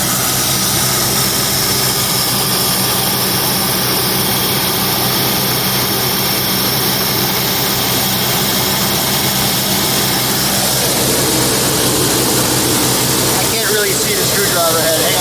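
A 1971 Mercury Comet V8 runs at high idle while being tuned. A steady, loud engine drone holds throughout, with no break in the rumble.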